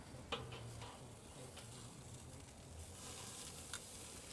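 A ribeye steak sears over charcoal on a cool grate, giving a steady, soft sizzle with a few faint ticks and clicks throughout and no talking.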